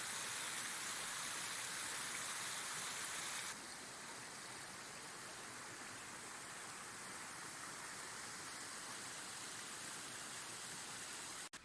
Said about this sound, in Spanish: Y un pequeño salto de agua, una cascadilla que hay aquí.